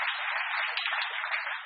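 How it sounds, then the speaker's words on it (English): Audience at a data summit keynote in Berlin applauding, an even, steady patter of clapping with no talk. "But one round of applause for Dania, please."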